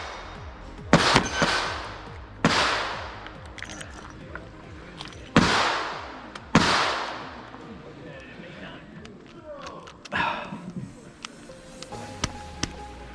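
Revolver gunshots at an IDPA shooting match ring out as several loud, sharp cracks spaced a second or more apart, each with a short outdoor echo, followed by fainter pops and movement noise.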